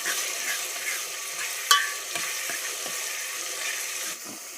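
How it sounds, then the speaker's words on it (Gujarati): Onions sauté in a pan after mustard seeds go in, giving a steady close sizzle with a sharp clink and several soft stirring scrapes, no talk. "ડુંગળીને આપણે થોડીક વાર સાંકળી જોઈએ."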